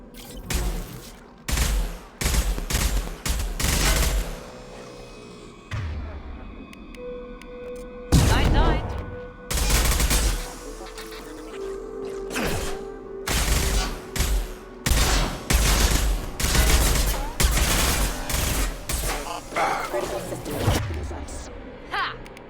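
Rapid gunfire from a Mass Effect 2 battle rattles in repeated loud bursts and volleys, with booming impacts between them, while a voice speaks over the combat.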